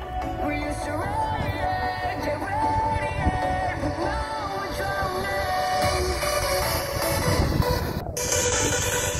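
A JBL Extreme Bluetooth speaker blasting music at maximum volume, a dense full-range mix that is loud, steady and nearby, with no voices over it.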